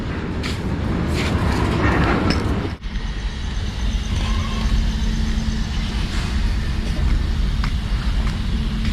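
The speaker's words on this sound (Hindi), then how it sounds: "अभी पार हो रहा है मालगाड़ी।" A long freight train rumbles steadily past nearby at a railway station in Kharsia, Chhattisgarh, a continuous heavy roar with rattling wheels and a brief sharp clank partway through.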